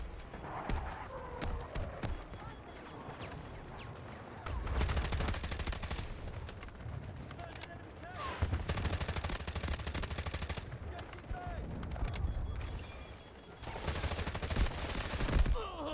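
Mk18 assault rifle fire in the Delta Force video game: loud, sustained bursts of rapid automatic shots in several long strings, with short pauses between them.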